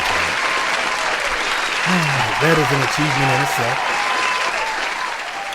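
Applause sound effect dropped into a podcast, steady dense clapping with cheering texture throughout, with someone talking over it in the middle.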